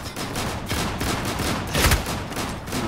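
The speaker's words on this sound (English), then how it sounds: "Who the hell is shooting me" Gunfire rattles through a battle royale match in Islands of Nyne as dense bursts of rapid shots, loud and steady for the whole stretch, with a heavier blast near the end and no voices.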